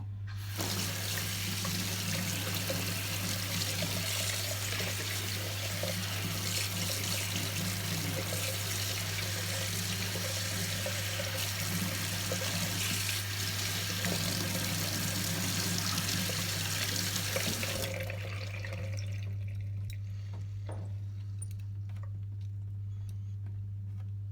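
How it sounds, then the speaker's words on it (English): Running tap water pours steadily into a sink to rinse a steel Corgi toy baseplate, a loud continuous hiss that stops near the end, leaving a low hum and faint ticks. "And then give it a rinse."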